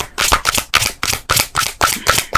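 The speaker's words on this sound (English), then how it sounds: "We're just going to shuffle again." Tarot cards shuffled by hand in repeated quick riffling bursts, about eight crisp papery flurries in a steady rhythm, close and fairly loud with no talking.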